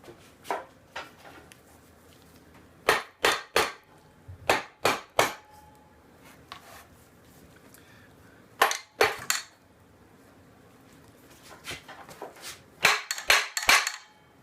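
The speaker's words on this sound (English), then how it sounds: "A little more hammering, maybe?" Sharp metallic hammer blows on Honda Express engine parts land in irregular bursts, some single, some in quick clusters, close and loud with quiet gaps between.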